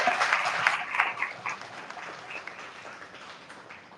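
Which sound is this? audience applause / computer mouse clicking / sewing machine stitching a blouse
audience applause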